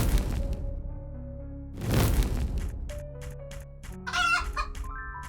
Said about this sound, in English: now let's try and kill the chicken